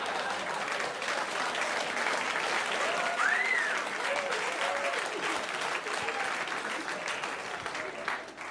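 An audience at a Louis C.K. stand-up comedy show bursts into sustained, dense applause that fills the room evenly, with no break in the clapping throughout.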